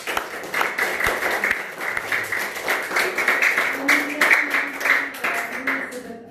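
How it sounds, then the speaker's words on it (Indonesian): A congregation claps together at the close of a children's retreat Mass, steady dense applause lasting throughout, fairly near and even in level, with a few sharper individual claps standing out. "Tepuk tangan untuk kita semua."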